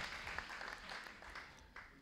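Soft, diffuse applause from religious sisters at a consecrated life conference, fairly quiet and steady throughout, with a faint voice speaking over it.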